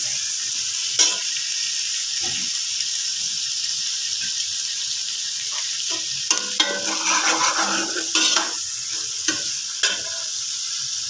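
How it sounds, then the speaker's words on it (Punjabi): Chopped onions and ginger fry in a pan of hot oil with a constant hissing sizzle, broken by occasional spoon taps and a burst of stirring toward the end. "ਲਓ ਜੀ ਹੁਣ ਆਪਾਂ ਪਾਵਾਂਗੇ ਵਿੱਚ ਪਿਆਜ਼ ਗੰਢੇ ਤੇ ਅਦਰਕ"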